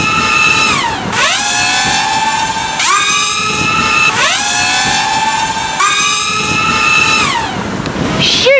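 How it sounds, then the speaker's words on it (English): X210 racing drone with 2600kv motors on a 30 amp setup whines up in repeated rising and falling sweeps during a burnout, loud and close, with no talking. "listen to the motors, because they should wind up a lot more"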